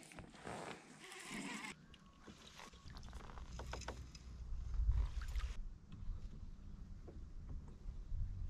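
A fishing boat cruises on the water during bass fishing, giving a steady low rumbling drone with splashy, hissy water noise and a few brief knocks, at moderate loudness with no talking.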